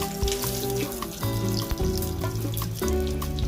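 Steady crackling sizzle of Jamaican saltfish fritters frying in hot oil, continuous and close, with occasional pops and faint clinks over a low hum.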